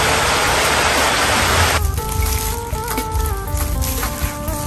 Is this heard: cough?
no